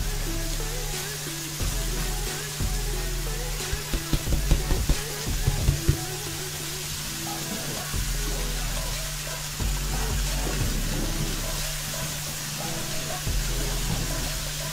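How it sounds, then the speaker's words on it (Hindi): Fenugreek leaves (methi) frying in a pan with a steady close sizzle and hiss, a few louder scraping stirs in the middle, no voices. "पांच मिनट इसको भूनेंगे।"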